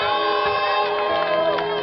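A church congregation at an evangelist's service raises a loud, sustained cheer of shouting and whooping voices, steady and close throughout.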